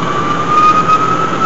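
A small ethanol-fired steam turbine runs at speed, fitted with a speed-regulating valve, giving a steady high whine over a broad rushing hiss, close and continuous throughout.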